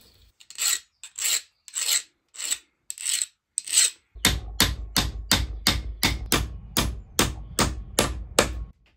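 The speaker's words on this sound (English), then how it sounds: "Or shall we use the old brace drill?" Rhythmic scraping strokes, first a few slow separate rasps, then a faster steady series of grinding turns close by, as an old hand brace drill deburrs a hole in metal.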